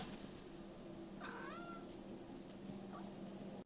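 A single drawn-out cat meow sounds once, fairly faint, over a low steady room hum, followed by quiet ambience.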